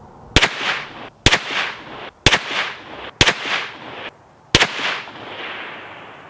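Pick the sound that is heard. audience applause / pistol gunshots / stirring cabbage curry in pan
pistol gunshots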